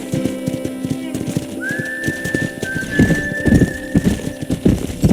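Horses in the corral in Red Dead Redemption, hooves clopping loudly and close with a long high whinny drawn out in the middle, rising in intensity toward the end.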